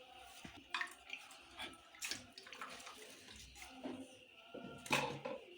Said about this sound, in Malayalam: പുളി കഴിഞ്ഞ് വെള്ളമൊക്കെ ഒഴിക്കട്ടെ.